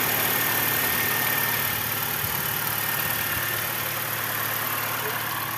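A BMW E90 engine runs at a steady, loud, even drone close to the microphone. There is no clear rise or fall in pitch.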